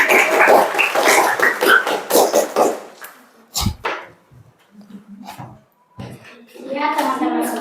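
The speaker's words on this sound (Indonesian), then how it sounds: "berikan tepuk tangan dulu buat Nova" A classroom of students applauds a classmate before an ice-breaking activity, a burst of dense clapping in the first few seconds that fades into scattered taps, then a voice begins speaking.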